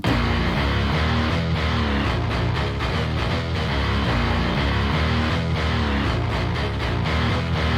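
Layered bass line distorted through a pedal simulator plugin, dense and gritty, pounding rhythmically in a loud full mix with no voices.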